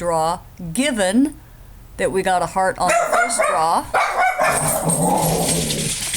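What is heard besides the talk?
dog Leo barking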